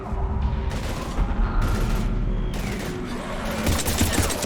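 Gunfire in the video game Mass Effect 3 during an Earth battle, with a dense loud rattle of rapid shots and booms continuing throughout, close and unbroken, with no voices over it.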